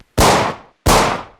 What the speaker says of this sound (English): The ear-piercing cracks of gunfire